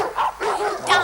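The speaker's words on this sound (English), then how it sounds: "The barking of the dogs" Dogs barking close by, three quick, loud yapping barks in a rapid burst, heard alone.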